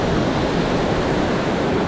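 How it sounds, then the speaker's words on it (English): A waterfall on a stream in the Appalachians roars as a dense, steady broadband rush, loud and close and unbroken throughout, with no voices. "About ready to leave and found another waterfall."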